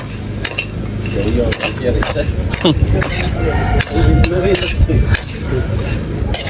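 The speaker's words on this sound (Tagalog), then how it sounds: "Hindi na natin nilagyan ng mantika. Haluin pa natin ng haluin." Food is stirred in a dry pan with no oil, giving continuous scraping and clinking of a utensil against metal in steady rhythmic strokes, with a light sizzle, under outdoor talk.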